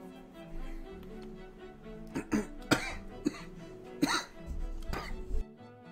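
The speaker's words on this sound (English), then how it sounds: "freaking coughing fit there" Several sharp, harsh coughs burst out in a short irregular fit, spaced across a few seconds over faint background sound.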